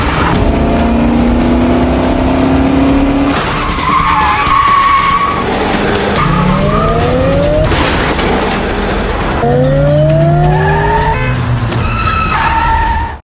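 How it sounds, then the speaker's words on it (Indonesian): Tires screech repeatedly in a film car chase as cars race and skid, with loud, sustained squeals rising and falling over roaring engines and crashes, and no talking. "Kapten Wu segera meluncur dan mengejar mobil tersebut"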